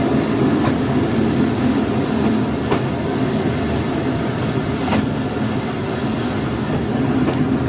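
Train pulling into Gulistan railway station on the Chaman line toward Quetta, heard from aboard a passenger coach: a steady low rumble of the rolling car with faint rhythmic wheel clicks, no talking.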